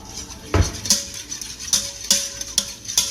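Keto chicken taco soup with taco and ranch seasoning stirred in a pressure cooker pot, a spoon scraping and knocking against the metal in several distinct clinks and taps spread over a few seconds, close and fairly clear.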